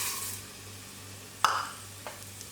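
Unroasted vermicelli (semiya) dry-roasting in a pan for semiya payasam, heard as a soft, low sizzle with a few sharp scrape or stir clicks near and moderately faint, no voices.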